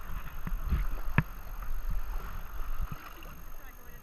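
A kayak paddles across moving river water, with soft splashes and dips of the blade amid gurgling current and light wind buffeting, faint voice nearby.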